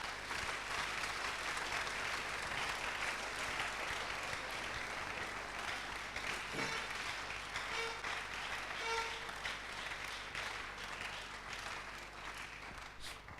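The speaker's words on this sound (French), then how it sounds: "Let's give a hand to the Lord." A church congregation applauding during a bilingual service, sustained dense clapping from many hands that fills the room and fades slightly toward the end, with no talking over it.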